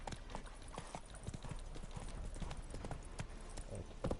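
Roach the horse in the video game The Witcher 3 clip-clops along at a steady trot, the hoofbeats rhythmic and close, with faint game ambience underneath.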